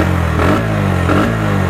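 A Bajaj Pulsar NS 125 motorcycle, sitting in neutral, runs its engine close by with a steady, loud low rumble and a couple of brief rev swells, with no talk over it.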